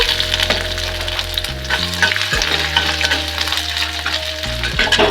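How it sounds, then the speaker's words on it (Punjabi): Garlic, ginger and whole spices frying in hot oil for malai kofta, a loud, continuous crackling sizzle with stirring, alongside faint steady tonal hums from a nearby appliance. "ਇਹਨਾਂ ਨੂੰ ਅਸੀਂ ਇੱਕ ਦੋ ਮਿੰਟ ਚੰਗੀ ਤਰ੍ਹਾਂ ਭੁੰਨ ਲਾਂਗੇ ਤਾਂ ਕਿ ਮਸਾਲਿਆਂ ਦਾ ਪੂਰਾ ਫਲੇਵਰ ਤੇਲ ਵਿੱਚ ਆ ਜਾਵੇ"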